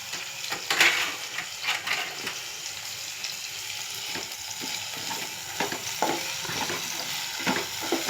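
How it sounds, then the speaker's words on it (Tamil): Tomato and onion sauté with rock salt in a pan, giving a continuous sizzle broken by irregular scraping stirs. It is fairly close, and no one talks. "கொஞ்சம் கல்லுப்பு கொஞ்சம் தூவி வதக்குறேன்."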